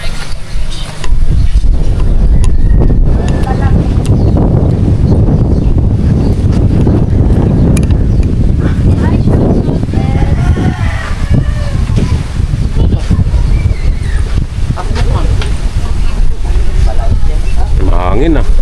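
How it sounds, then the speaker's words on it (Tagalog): Strong seaside wind buffets the microphone in loud, continuous low rumbles, with faint sea and surf beneath and occasional voices in the background. "Sobrang hangin guys, yung tabing dagat oh."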